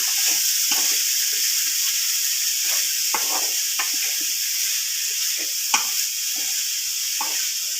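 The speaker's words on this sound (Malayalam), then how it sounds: "നമുക്കതൊന്ന് ഇളക്കി മിക്സ് ചെയ്ത് കൊടുക്കാം" Elephant foot yam stem stir-fry sizzles steadily in a pan while a spoon scrapes through it in intermittent strokes, close and clear, with no talking.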